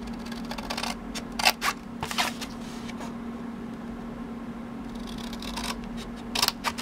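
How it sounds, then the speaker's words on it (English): Scissors cut tabs into the sides of a paper gift box, producing several short crisp snipping bursts in separate clusters over a steady background hum, with no talking. "I'm just going to cut the tabs here and do the same on the opposite side"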